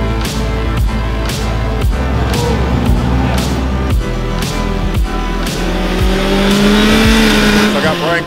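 A Kraftwerks supercharged Pro-R engine revs hard on a dyno, a loud, steady engine roar climbing in pitch toward the end, with rhythmic sharp bursts over it and voices talking in the background.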